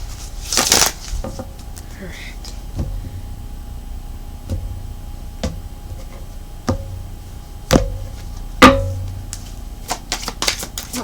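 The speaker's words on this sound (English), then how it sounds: "2 more shuffles." Tarot cards being shuffled by hand in a quiet room, giving a series of soft, brief riffling clicks and taps spread across the clip, with a couple of louder bursts near the start and toward the end.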